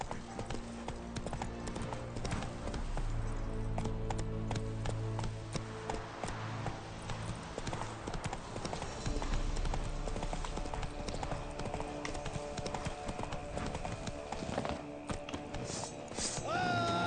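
Horse hooves gallop in the video game The Witcher 3, a fast rhythmic clip-clop of repeated thudding strikes with game music and effects underneath, steady throughout at moderate loudness.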